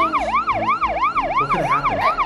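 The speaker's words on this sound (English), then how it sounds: "what's that sound? I think it's the ambulance" An ambulance siren wails in a steady, looping up-and-down sweep, loud and close, with no talk over it.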